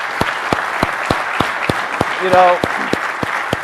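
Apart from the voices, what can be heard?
audience round of applause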